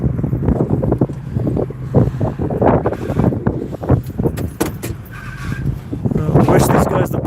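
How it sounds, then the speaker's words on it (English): Strong wind buffets the microphone outdoors near a wildfire at a threatened ranch house in Boulder on a chilly day, a steady loud rumble with gusts, while people talk intermittently over it. "The wind's intense."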